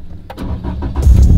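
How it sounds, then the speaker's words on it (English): A car engine cranks and catches, rising from a stuttering start into a loud, close rumble within a second or so, with no talking. "let's start the engine"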